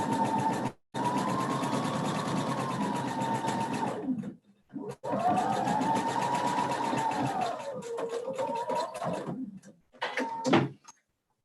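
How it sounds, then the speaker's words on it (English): A home sewing machine stitches a dress sleeve in long bursts of steady whirring hum, stopping and restarting with brief silences and the pitch dipping as the motor slows near the end. "I would want to see how you ease as you're sewing, Nikki."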